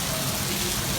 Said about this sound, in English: When it rains in Singapore, it rains.